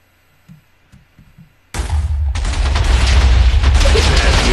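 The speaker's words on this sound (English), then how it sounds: "let's go back and watch the fireworks," Minecraft fireworks launched with a fire charge: a few soft thumps, then a sudden loud eruption of dense crackling bursts that keeps building and fills the rest of the stretch, close and continuous.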